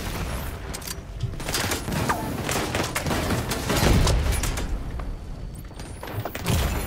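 Enemy turrets firing in The Division 2: Warlords of New York, rapid bursts of gunfire and thuds layered into a dense, steady barrage, moderately loud and continuous with no talk.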